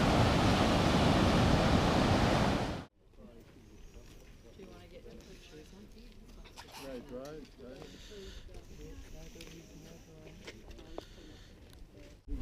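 Roaring ocean surf noise fills the first few seconds, then cuts to a quieter outdoor scene along the Great Ocean Road near Cape Otway Lighthouse, with a soft wash of waves under talking.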